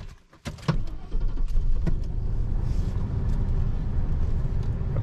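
Car driving along a road in the countryside of Beaver Island, Michigan, with Parker at the wheel: a steady low engine and road rumble fills the cabin after a brief dip and a couple of clicks at the start, with no talking.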